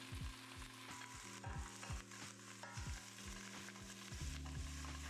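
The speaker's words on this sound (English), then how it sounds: "In a deep pot over medium heat, I warm olive oil and add the mushrooms, sauteing them until browned." Mushrooms sauté in olive oil in a deep pot over medium heat, a soft steady sizzle with repeated stirring scrapes, quiet and close with no voices.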